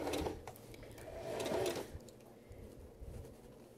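A home sewing machine runs a short backstitch on a pattern piece, a quick whirring burst with a brief stitching rhythm, then it stops and the room goes quiet.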